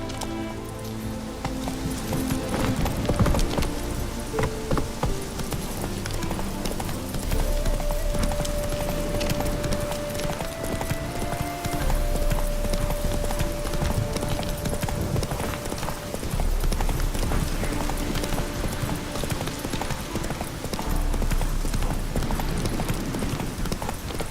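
A horse gallops steadily in The Witcher 3, its hooves clip-clopping continuously under dense game music and ambient sound, with no speech.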